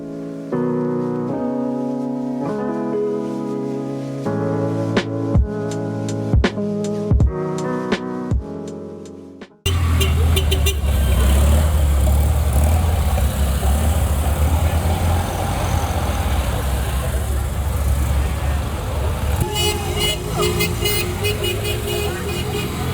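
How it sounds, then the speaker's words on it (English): Classic cars in a rally pass by on a street in Krakow, a loud rumble of engines and traffic with a horn toot, following a stretch of music. "I believe what I just saw was a classic car rally."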